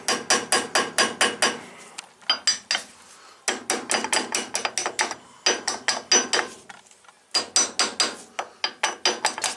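Quick trains of light, ringing metallic taps from a claw hammer on a 1967 Triumph GT6 steering wheel, in rapid rhythmic bursts of several strikes separated by brief pauses, close and clear with no talk.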